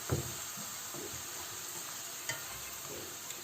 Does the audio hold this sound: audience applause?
no